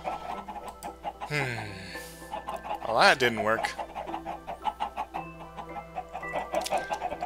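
Video game chickens cluck and squawk in short bursts around a spoken line, with a louder flurry of fowl calls in the middle before steady clucking resumes under the talk.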